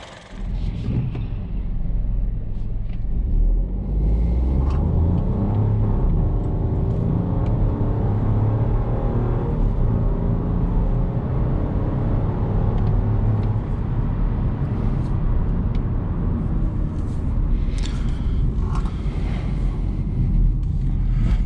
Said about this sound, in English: So now let's drive the car and see how the engine performs.